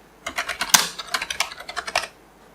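Quick, steady typing on a computer keyboard while entering a file name, a burst of crisp clicking keystrokes lasting about two seconds, close and alone.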